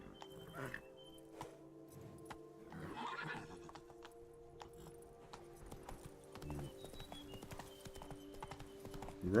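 Roach, a horse in The Witcher 3, trots with steady clip-clop hoofbeats throughout, joined by a whinny and game music in the background.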